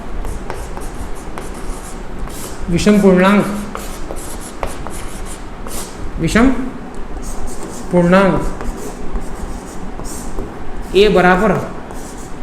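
Chalk or marker writing on a classroom board during a maths lesson, with scratchy strokes coming in bursts under a teacher's ongoing speech.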